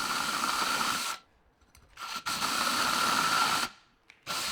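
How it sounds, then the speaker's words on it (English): A cordless drill bores into scrap wood for a chair base in two long, steady whirring bursts, with short pauses and a quick restart between them, close and fairly loud with no talk. "so I'll do that with a cordless drill."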